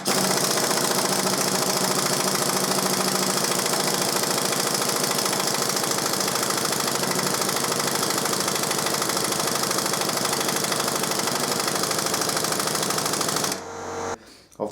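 A Kawasaki Z1000SX motorcycle engine runs in gear, a loud, steady mechanical clatter and hum close by that cuts off abruptly near the end.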